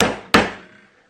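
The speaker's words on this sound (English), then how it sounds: "In fact, I have to put it in with a hammer." Two sharp metallic hammer strikes, the second louder, drive a 3/16 inch pin into a tight drilled hole, each hit ringing out briefly close by.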